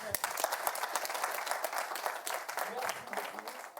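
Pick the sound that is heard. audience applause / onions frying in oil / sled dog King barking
audience applause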